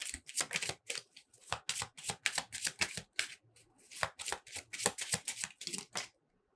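Oracle cards are shuffled by hand in rapid, crisp riffling bursts, close and fairly quiet, continuing for about six seconds with short pauses and no talking.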